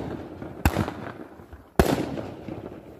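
Fireworks going off outdoors, two sharp loud bangs about a second apart, each followed by a crackling, rumbling tail fading into background noise.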